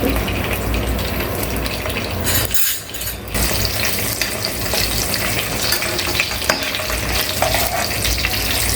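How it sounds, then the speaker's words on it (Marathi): Dry fruits roasting in ghee in a pan, a steady close sizzling and frying hiss with stirring scrapes, briefly dipping for a moment before continuing loud and even. "तर सर्वात आधी आपण तुपामध्ये आपले जे काही ड्रायफ्रुट्स आहेत ते आपण चांगले भाजून घेणार आहोत"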